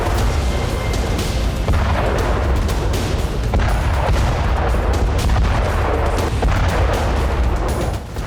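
Explosion and blast sounds from an attack on the Crimean Bridge over the Kerch Strait, a dense, continuous rumbling roar with repeated sharp cracks and booms layered through it, loud and unbroken throughout.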